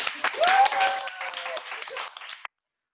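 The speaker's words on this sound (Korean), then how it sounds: "다시 한번 물개 박수" Seminar attendees give an enthusiastic round of clapping for a returning alumna mentor, a burst of applause that swells early, thins out, then stops abruptly, with a voice speaking over it.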